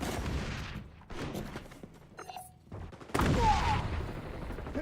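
Sniper rifle shots ring out in the online shooter XDefiant, sharp reports and echoing cracks separated by short quiet gaps, with other game sounds in the background.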